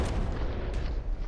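Shell fire in the naval combat game From the Depths thunders as a dense, low booming roar that stays loud throughout the short burst.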